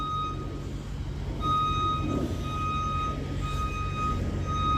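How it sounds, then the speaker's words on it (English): Repeated high electronic reversing beeps sound at a steady rhythm over the rumble of an idling truck. "More beeping. More beeping."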